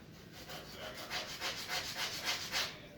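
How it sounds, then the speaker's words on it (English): A wooden arrow shaft is rubbed with sandpaper in a steady run of quick back-and-forth strokes, close and fairly soft, with no talking. "Heck, I almost don't need to use sandpaper, but I shall just to impress you with my sandpapery."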